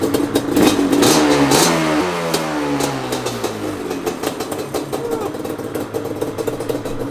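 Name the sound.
Banshee engine firing up and revving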